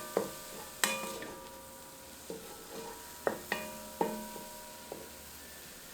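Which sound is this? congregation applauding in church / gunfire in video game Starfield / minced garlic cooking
minced garlic cooking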